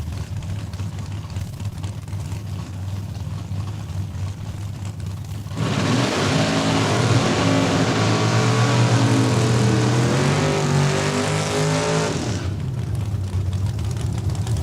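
Drag racing cars including a Camaro at Saskatchewan International Raceway, an idling rumble giving way to a loud, sustained full-throttle engine roar as they launch down the strip, then fading.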